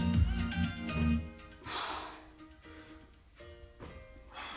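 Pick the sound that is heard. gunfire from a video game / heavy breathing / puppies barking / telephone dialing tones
heavy breathing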